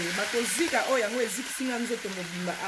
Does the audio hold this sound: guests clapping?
no